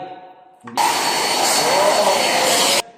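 A Derma vacuum cleaner switches on after faint talk and runs with a loud, steady broadband roar for about two seconds, then cuts off abruptly.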